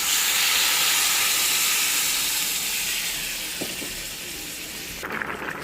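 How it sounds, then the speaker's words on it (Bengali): Water poured into a pan of fried vegetables with tomato and green chilli, giving a loud, broad steaming sizzle that slowly fades and softens, then ends with a brief clatter near the close. "সবজিটা ভাজা হয়ে গেছে, এখন জল দিয়ে দেবো।"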